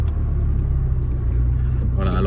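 A McLaren 600LT supercar cruises through Monaco, its engine a loud, steady low rumble heard from inside the cabin, with a brief rise in higher-pitched noise near the end.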